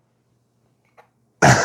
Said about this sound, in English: I didn't mean to cough then.